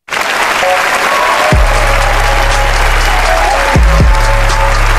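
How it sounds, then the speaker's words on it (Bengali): Loud, steady applause starts abruptly and fills the whole stretch, with a droning low hum and a few thumps and tonal tones cutting through underneath. "তো গাইস, সাদিকুল ভাইয়ের সন্তানদের জন্য একটা হাততালি হয়ে যাক।"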